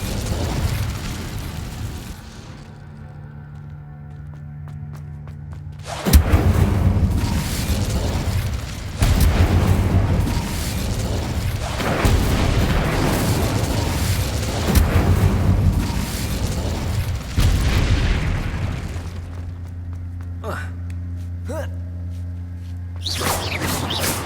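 Fire spells are cast in Hogwarts Legacy, with repeated loud fiery bursts and booms as flames erupt, mixed with whooshing blasts and quieter pauses between casts.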